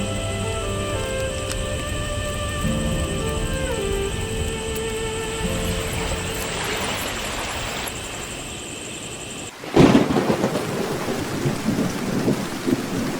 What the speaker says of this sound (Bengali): রাতভর বৃষ্টি পড়ছে।